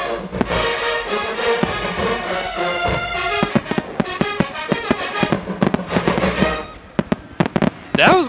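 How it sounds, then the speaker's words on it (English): Fireworks go off during a Grambling State versus Texas Southern fifth-quarter band event. Repeated bangs and crackles sound in the background beneath loud brass band music, with a voice heard briefly at the end. "that's the fireworks in the background"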